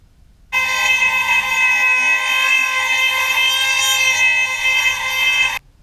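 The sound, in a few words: drill boring out a hole in a chassis rail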